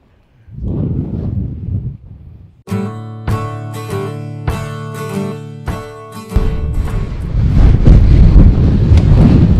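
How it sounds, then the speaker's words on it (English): Strong 30 mph wind gusts roar and buffet the microphone on a cliff edge, with rhythmic clattering knocks in the middle and a heavy rush of wind building at the end. "30 mile an hour gusts."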